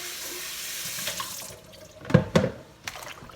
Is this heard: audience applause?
no